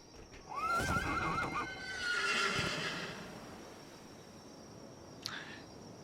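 A skeleton horse in the Cormyr video game gives a high neigh that rises and falls, then whinnies again, with hoof clip-clops and faint insect chirps behind it, fairly close and with no talk.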